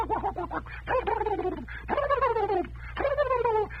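A voice imitates a flock of turkeys gobbling, giving four rapid, warbling gobble bursts in a row, close and fairly loud.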